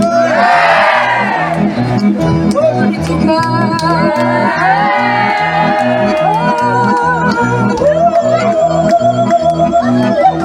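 A big crowd on the Cours Jean-Jaurès in Pézenas shouts and cheers loudly during the Picon festival, with rising whoops over a steady rhythmic beat that repeats throughout.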